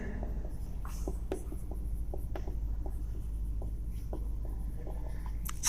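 Chalk or marker writing on a board during a classroom lesson, with a series of short scratchy taps and strokes in an irregular rhythm over a low steady room hum.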